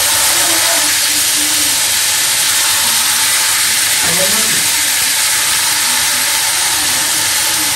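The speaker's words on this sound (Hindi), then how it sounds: "अब हम इस पे डाल देंगे जिंजर गार्लिक पेस्ट" Ginger garlic paste hitting hot onion oil with chicken frying, giving a loud, steady broadband sizzle and hiss that runs the whole time, with a voice speaking faintly underneath.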